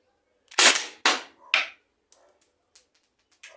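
A Byrna SD launcher powered by a 12g CO2 cartridge fires three sharp, close shots about half a second apart, followed by a few faint clicks.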